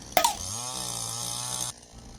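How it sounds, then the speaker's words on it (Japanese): A chainsaw creeping along by itself under its own vibration, its engine holding a steady, loud buzzing drone after a brief sharp knock at the start, then cutting off abruptly near the end. "チェーンソーが振動で動いています"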